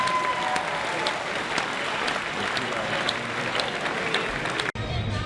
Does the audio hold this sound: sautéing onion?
no